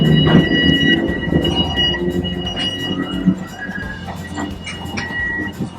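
An electric train running along a beachfront rolls along with a loud rumble and rattle, wheels squealing faintly now and then, heard from on board and close.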